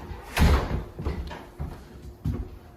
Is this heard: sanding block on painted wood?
no